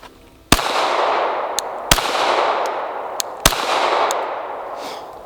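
Three sharp, loud pistol shots spaced about 1.5 seconds apart from a SIG P320 VTAC handgun fitted with a light, each crack followed by a long echoing decay at an outdoor range.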